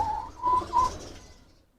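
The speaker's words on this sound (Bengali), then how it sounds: "রানা ভাই আর কোন কোন কবুতর আছে আপনার কাছে" A few soft, low pigeon coos repeat in short bursts, fairly close, fading out toward the end.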